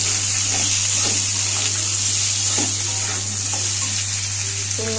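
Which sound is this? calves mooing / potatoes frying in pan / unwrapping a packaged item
potatoes frying in pan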